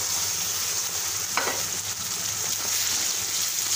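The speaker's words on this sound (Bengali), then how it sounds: "এই যে এখন আমি নেড়ে নিচ্ছি, এর মধ্যে আমি এই তো গুলে রাখা মশলাটা ঢেলে দিচ্ছি।" Country chicken sizzling and frying in a pan while being stirred as a mixed spice paste is poured in, a steady hiss with a brief scrape partway through, no voices.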